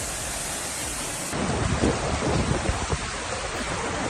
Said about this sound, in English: There was heavy rain and hail.